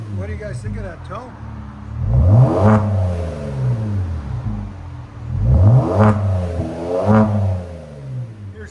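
A 2018 Genesis G80 with a 3.3L twin-turbo V6 and muffler delete, revving loudly up close in three rising pulls, each climbing sharply and dropping back to a rumbling idle.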